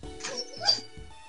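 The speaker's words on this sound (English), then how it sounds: "Oh, I heard dog sounds." A small dog whimpers and gives a quick yip or bark over a brief, busy stretch, with faint voices and background noise of a live stream around it.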